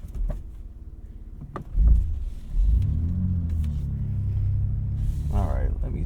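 A BMW M2 with traction control switched off rumbles and drives through a turn, its engine note rising and holding steady as a low, continuous drone, with a faint whine near the end.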